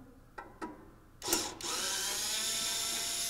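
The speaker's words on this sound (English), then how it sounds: "So the next thing that we're going to do is we're going to go ahead and pull these two screws out of here." A screwdriver backs two screws out of a small space heater, with two faint clicks, then a brief louder metallic scrape, followed by a steady whirring hiss that continues to the end, close and fairly loud.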